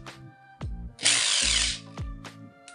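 An ibell electric screwdriver whirs in short bursts, with one longer run where the clutch slips and rattles loudly, the motor spinning up and down between pauses, recorded close and alone.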